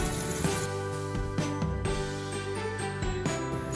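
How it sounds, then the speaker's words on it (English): Wooden spoon stirring and scraping shallots and garlic in a pan, with light clinks and taps at irregular intervals over a soft, steady sizzle, close and fairly quiet. "with a wooden spoon, you wanna give it a stir and scrape off all this amazing brown deliciousness off"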